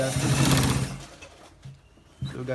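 A sewing machine stitching a designer shirt runs in a loud, rapid mechanical whir for about a second, falls quiet, then briefly starts up again at the very end.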